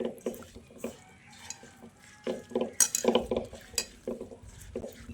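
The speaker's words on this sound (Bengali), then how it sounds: "এখন সব কিছুকে ভালো করে মিশিয়ে নেব" Hands mix hilsa fish with spices and mustard oil in a metal bowl, giving wet squelching and soft scraping in irregular bursts with a few clinks of the bowl, close and moderately loud.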